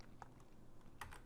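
Keys on a computer keyboard tapped during a terminal command entry, a few quiet isolated clicks and then a short faster burst near the end, close and faint with no voices.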